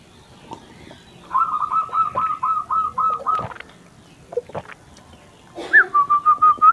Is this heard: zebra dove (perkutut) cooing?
yes